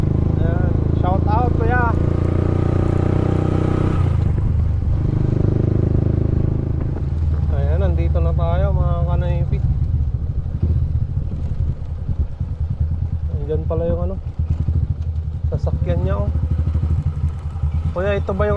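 A motorcycle engine idles and runs steadily throughout while people talk over it, with a brief quieter stretch partway through as the rider arrives and parks in a barangay.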